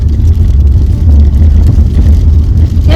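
Heavy military defence vehicles roll along a snowy, icy mountain road near Hanle in Ladakh, their engines a loud, steady low rumble that holds throughout with no speech.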